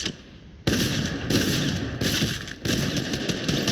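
Rapid automatic gunfire in the video game Fortnite, loud, close bursts that start abruptly and continue with brief pauses.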